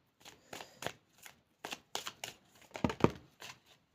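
Playing cards for a reading are shuffled and handled close up in a run of quick, crisp riffling bursts and flicks, about a dozen separate strokes with brief pauses between them and no voices.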